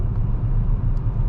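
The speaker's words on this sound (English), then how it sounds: "Now it's nice when you let go of the gas, it just coasts." Peugeot 5008 (2021) coasting at night with the gas released: a steady low road rumble and tire drone from inside the cabin, fairly loud and even, with no talking.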